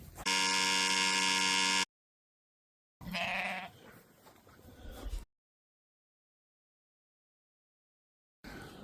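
A sheep bleats in a loud, sustained cry, followed after a pause by a second, rougher bleat on a farm, with silent gaps between the calls.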